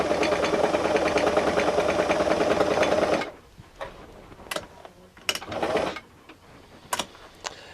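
A white vintage model 940 sewing machine runs a zigzag stitch, its motor whirring loud and steady for about three seconds before stopping, followed by scattered clicks and brief mechanical taps.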